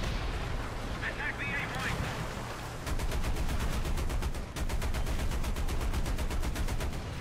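Tank cannon and machine-gun fire in War Thunder, a Panzer III among the armored cars, as dense rapid bursts of rattling shots over loud battle noise, with a pause midway before a second burst; a voice speaks faintly underneath.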